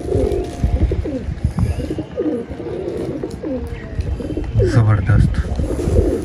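Golden pigeons coo repeatedly at close range in soft, rolling calls, with someone speaking briefly over them.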